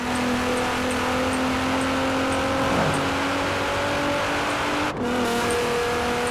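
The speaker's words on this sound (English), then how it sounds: "Listen to that exhaust." A car engine in the video game Forza Horizon 4 hums steadily with a rising and falling exhaust note, close and continuous, with a brief tonal drop near the end.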